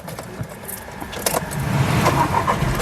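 A 2015 Skoda Rapid Elegance car starts up nearby. A brief key jangle and cranking are followed by the engine catching and settling into a steady idle.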